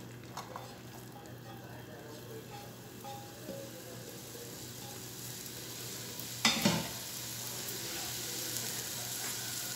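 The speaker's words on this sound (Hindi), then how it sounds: "इसमें मैं वेजिटेबल भी मिक्स करूँगी" Vegetables and cooked chicken are stirred together in a pot, a soft continuous scraping and sizzle with one sharper clatter of the utensil partway through, faint and close.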